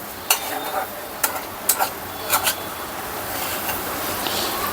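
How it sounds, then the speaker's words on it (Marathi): Coconut-jaggery modak filling is stirred and mixed in a pan, several separate scraping clicks of a spoon over a continuous hissing background, fairly close, with no talking. "आपण आता ती मिक्स करून घेऊया"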